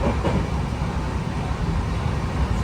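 Express sleeper train between Mangaluru and Kacheguda running at speed on rails, a continuous loud low rumble with rattling heard from inside the carriage, steady throughout with no voices.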